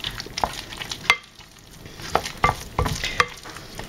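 A spoon stirs thick choux pastry dough with eggs worked in one by one, giving repeated close scraping and slapping strokes in an uneven rhythm, with a brief quiet pause partway through.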